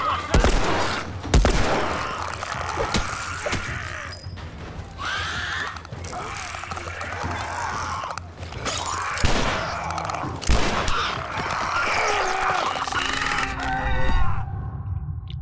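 Gunfire in The Last of Us Remastered, a chaotic fight with repeated sharp shots and bursts scattered among game noises and brief voices, uneven and busy throughout.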